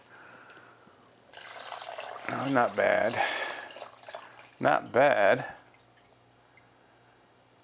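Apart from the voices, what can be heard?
pouring fresh coconut water (pipa)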